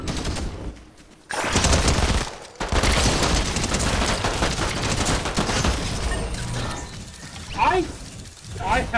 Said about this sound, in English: Who the fuck was shooting at me?